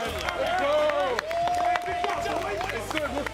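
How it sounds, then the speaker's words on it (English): Clapping and cheering from a crowd in a big room, mixed with a loud amplified voice talking over it. "I'm clapping."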